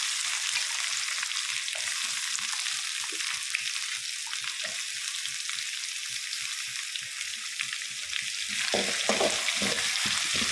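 Chopped onions frying in a pan for prawn masala, a loud continuous sizzle close by with soft stirring clicks running throughout and a brief burst of louder stirring near the end.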